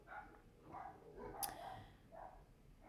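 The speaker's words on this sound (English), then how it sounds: "If you heard my dogs barking there" Dogs bark faintly in the distance, a few short, scattered barks over quiet background noise.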